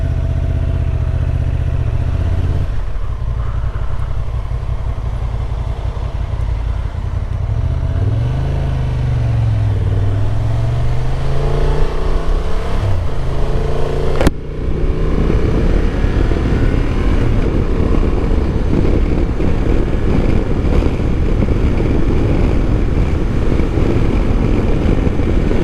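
A Honda XL750 Transalp motorcycle on a test ride, its engine droning steadily under heavy wind rush, with the pitch sweeping up and down through gear changes and a brief sharp knock midway.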